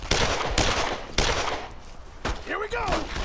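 Gunfire in Brothers in Arms: Road to Hill 30, a few loud broadband bursts with a clattering rhythm, followed by a shouted voice near the end.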